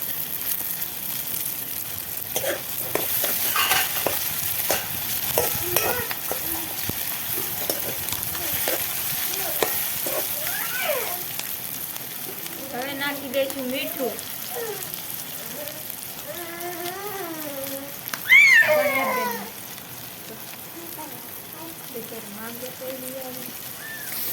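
Tomatoes dropped into hot oil in a pan for a peanut fritter curry, giving a steady sizzle throughout with a louder burst near the end, while a voice talks over it in places.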